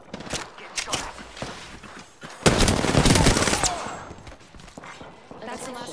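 Gunfire in the video game Apex Legends, season 7, with scattered single shots and then a loud close sustained burst of rapid fire, followed by lighter shots and footsteps, with a voice talking at times.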